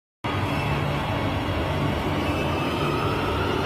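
A Madrid Metro line 6 train of the 8400 series with its newer running sound, a steady loud rumble with a continuous electric hum from start to finish, no voices.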